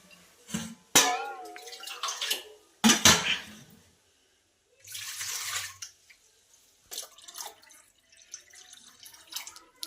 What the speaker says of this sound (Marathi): त्यात पाणी घालायचं आहे आपल्याला